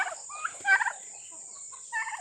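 Mating turkeys on a free-range farm gobble in several quick, warbling bursts, close by and clear against a quiet background.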